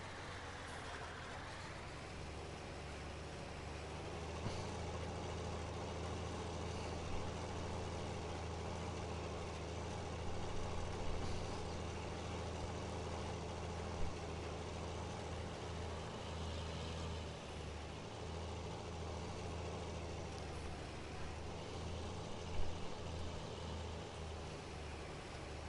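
Tractor engine rated around 260 to 270 horsepower in Farming Simulator 19, a steady low diesel drone that hums continuously with slight swells in pitch and a few faint clanks, no voices.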